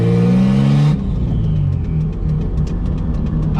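A turbocharged M20B25 BMW E30 engine revs loudly for about a second, its rising whine cutting off abruptly, then settles into a lumpy, steady idle with faint rhythmic ticking.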